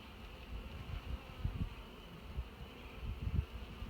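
Honeybees hum in an open hive while it is being requeened, a soft, close, continuous buzz with brief louder swells as individual bees pass near.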